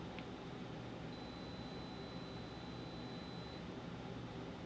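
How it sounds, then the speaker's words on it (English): A Polaroid Cube action camera gives a single long, thin electronic beep lasting a couple of seconds, faint against a steady background hiss, with no talking. "kind of a long beep"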